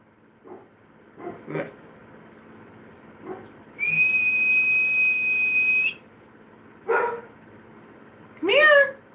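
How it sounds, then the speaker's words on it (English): A house dog named Bodie barks and yips in short bursts near and far indoors, broken by a long steady whistle-like tone, with a person talking in between. "my dog's really distracting"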